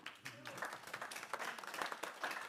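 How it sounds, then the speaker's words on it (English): Faint, scattered clapping from an audience at a community pitch day applauding students, a brief patter of hands with some murmuring voices mixed in. "Another big round of applause, please, for the students"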